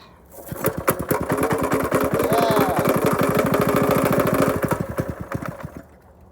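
A Predator 212 small gasoline engine, fuel-starved, sputters to life and runs with a rapid, rough chugging for several seconds before dying away, close to the microphone.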